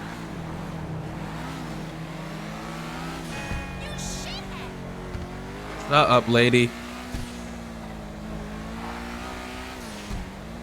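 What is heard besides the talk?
video game car engine with turbo release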